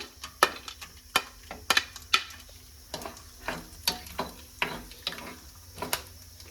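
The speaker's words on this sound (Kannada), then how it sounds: "ಫಸ್ಟ್ ನಾನು ಬಾದಾಮ್ನ ಹಾಕೊಂಡು ಫ್ರೈ ಮಾಡ್ಕೊಂಡು ತಕ್ಕೊಳ್ತೀನಿ" Almonds fry in ghee while being stirred in a pan, with a soft background sizzle broken by regular clicking scrapes of the spoon against the pan, close and without talk.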